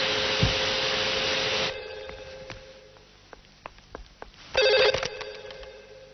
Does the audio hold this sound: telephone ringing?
yes